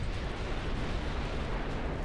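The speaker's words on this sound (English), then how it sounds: "Well, a torpedo hit for a..." A torpedo strike explodes against a ship in the naval strategy game Ultimate Admiral Dreadnoughts, a dense, sustained roaring rumble with heavy low-end body that fills the whole moment without clear breaks.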